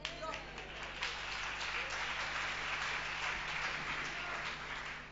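Congregation applauding at a Port Elizabeth Tabernacle church service, a steady, dense wash of clapping that holds evenly from start to finish with a low hum beneath.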